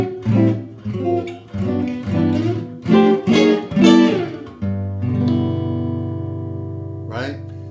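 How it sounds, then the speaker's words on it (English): Acoustic guitar played through an added mini humbucker magnetic pickup on an Epiphone Masterbilt Century Deluxe, a run of plucked notes and strummed chords followed by a long ringing chord, warm and close. "But I put in a magnetic pickup, what's a mini humbucker essentially, and it sounds like this."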